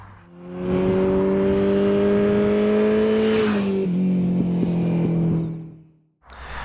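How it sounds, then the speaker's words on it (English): A loud, close Kawasaki Z H2 naked sport motorcycle engine revs up with a rising whine, holds a high pitch, then drops and fades away before a brief renewed roar. "so this is the Kawasaki Z H2, perhaps the pinnacle of naked motorcycles."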